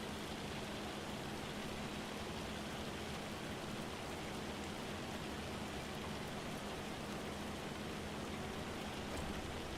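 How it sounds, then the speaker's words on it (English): Steady rain in the farming game Farming Simulator 25, a constant faint hiss of falling drops with no variation or other sounds throughout. "Oh, it's raining. It's raining."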